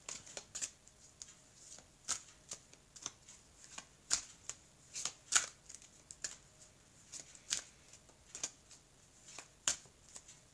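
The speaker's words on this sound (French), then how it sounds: "je vais prendre maintenant les cartes de l'oracle des miroirs pour compléter le tirage" Oracle cards being shuffled by hand in a quiet room for a tarot-style reading, a steady run of soft, crisp riffling flicks repeating close by, with no talking.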